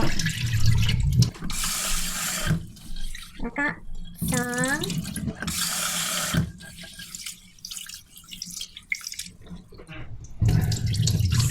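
Basmati and jasmine rice are washed in water in a bowl under a running tap, with bursts of gushing water, sloshing and swirling between pauses, and someone talks in between.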